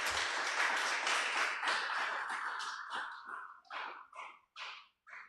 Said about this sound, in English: I think they deserve a mighty hand clap.